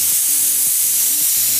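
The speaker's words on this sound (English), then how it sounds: "We have a really powerful dry steam." A Laurastar Lift steam iron releases a powerful burst of dry steam, a loud continuous hiss up close that runs the whole time, with low tonal clicks pulsing beneath it.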